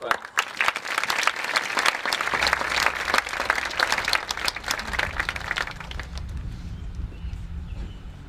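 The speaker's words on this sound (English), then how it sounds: "Another big round of applause." A big round of applause at a high school commencement for the concert choir directors, dense clapping from a large crowd that thins out toward the end, with low rumbling crowd noise underneath.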